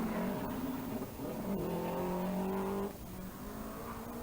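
Black Vauxhall Chevette rally car driven by Pat Murphy at the 1984 West Cork Rally, its engine revving hard with rising gear-change tones as it sweeps past, loud and continuous with no talk.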